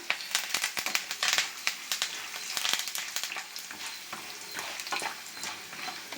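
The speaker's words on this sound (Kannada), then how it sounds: "ಅರ್ಧ ಸ್ಪೂನ್ ಸಾಸಿವೆ ಸೇರಿಸ್ಕೊಳ್ಳೋಣ ಸಾಸಿವೆ ಚಟಪಟ ಅಂತ ಫ್ರೈ ಆಗಲಿ" Mustard seeds, lentils and dried red chillies fry in hot oil for a mango rice tempering, crackling and popping busily over a sizzling bed, with stirring scrapes close by.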